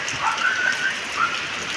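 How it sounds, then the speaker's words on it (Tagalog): Rain drums on a metal roof during a sudden downpour after a hot day, with strong wind; a steady, dense hiss of close patter runs throughout with a few brighter drip accents, no talking. "Naririnig niyo po sa kanang bubong ang ulan."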